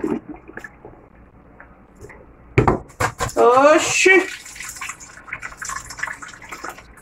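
Bean cooking water poured out of a pot in a home kitchen, a splashing trickle after a sharp clank of cookware, with a brief exclamation and some clatter around it.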